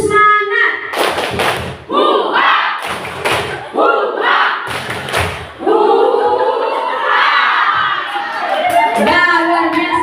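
Children at a storytelling competition perform a spirit-clap chant: loud, close rhythmic clapping thumps in quick bursts, then shouted group chanting voices fill the rest.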